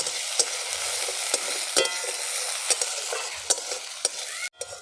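Chopped onions fry in a pan with green chilli, bay leaf and cumin, a loud, close sizzle broken by repeated scraping stirs and clinks of the spatula, ending in a brief cutoff.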